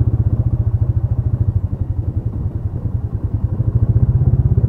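Manual-clutch motorcycle engine running steadily with a fast, even putter while shifting into second gear, close and loud with no clear break in the rhythm.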